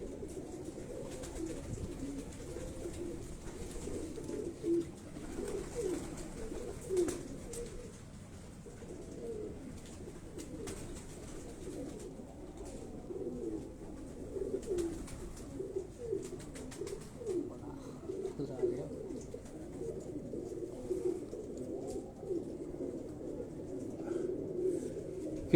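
Pigeons on a rooftop cooing in repeated soft rolling phrases, low and fairly faint, continuing steadily with light background noise.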